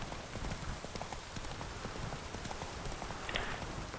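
Roach the horse trots along in The Witcher 3, hooves clip-clopping in a steady, continuous rhythm under a constant bed of ambient game noise, with no voices over it.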